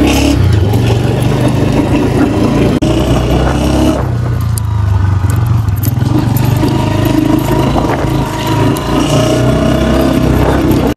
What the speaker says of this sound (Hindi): चले यार बाइक तो स्टार्ट हो गया